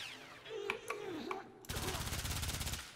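Baza Prime submachine gun fire in Warframe, a rapid burst of loud automatic shots in the second half after a few scattered sounds, with faint game effects underneath.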